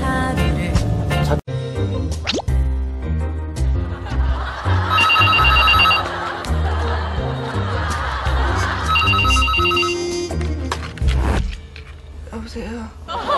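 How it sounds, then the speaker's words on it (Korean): Telephone ringing as a wake-up morning call: repeated bursts of an electronic ring at close range, sounding over and around lively talk and occasional laughter. "기상 미션 모닝콜을 시작"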